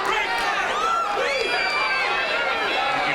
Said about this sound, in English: You can hear the KOZLIN faithful all on their feet cheering on their favorite fighter here.